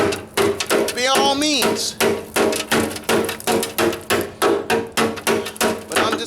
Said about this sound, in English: I'm just taking this hammer here and just banging away, banging out some of the rust